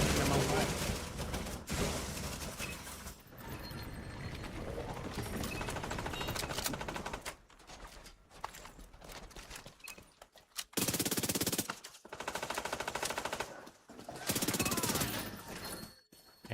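Bursts of SMG fire in the shooter game The Division 2, rattling in rapid strings that break off into short pauses and resume, loud and close, with occasional game voice lines mixed in.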